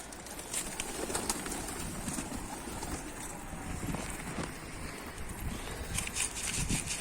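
Pigeon cooing against a busy outdoor background, soft low calls repeating now and then over steady ambient noise, with a few scattered bird sounds.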